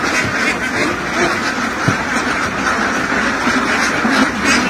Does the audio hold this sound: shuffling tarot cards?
no